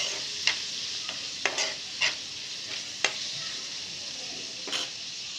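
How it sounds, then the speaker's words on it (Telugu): Onions fry with chicken in a pan, giving a steady sizzle while a spoon stirs them, scraping a few times against the pan with no voices. "జస్ట్ ఆనియన్స్ ఫ్రై అవ్వడానికి అంతే ఒకసారి కలిపి మూత పెట్టేసుకుందాం"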